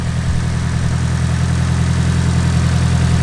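A car with a swapped Nissan SR engine idles steadily with a deep, even rumble, loud and close, with no talking over it.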